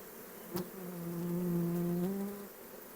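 A swarm of honey bees buzzes close and loud, one clear droning pitch swelling and fading over a few seconds after a short knock.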